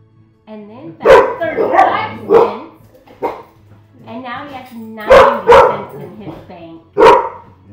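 Several dogs bark in short repeated bursts close by, breaking in over someone talking through a second-grade math lesson at home.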